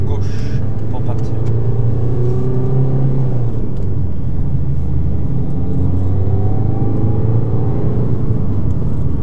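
A car pulling away during a mock driving test, a low engine rumble that rises and settles as it gets moving, heard from inside with a person speaking over it.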